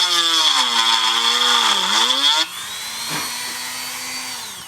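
A Dremel fitted with a router bit whines at high speed, then bites into wood while cutting a groove, its pitch dropping under load. The sound is loud and close.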